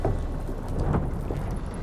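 Steady heavy rain with a rumbling thunderstorm in The Witcher 3 game, the downpour dense and continuous with low thunder rolling underneath, no voices present.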